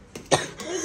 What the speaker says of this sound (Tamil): அவன் வரட்டு இருமல் சொரட்டு இருமல்